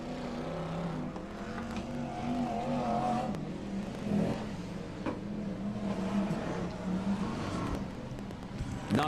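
BriSCA F1 stock cars race down the back straight at Long Eaton, a continuous loud roar of engines rising and falling as cars pass, with crowd and track ambience underneath.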